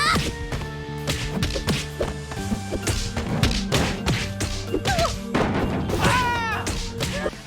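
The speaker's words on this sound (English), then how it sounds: "Punches land with a satisfying thud" Punches landing in the arcade beat 'em up Maiden Cops, repeated dull thuds and smacks in quick irregular bursts over a busy game music backdrop, with brief character yelps.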